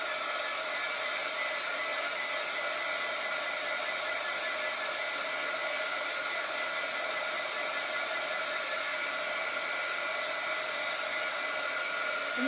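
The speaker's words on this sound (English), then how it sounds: "Now I'm going to take my heat gun, and I'm just going to go over this." A heat gun blows steadily over a scrap-wood book stack, giving a loud, unbroken rushing whoosh of hot air that holds the same level throughout, with no voices.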